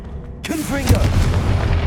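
Confringo fire spell cast in Hogwarts Legacy on PS5, a sudden loud boom with crackling burst and rumbling tail, a voice shouting the spell name over the blast.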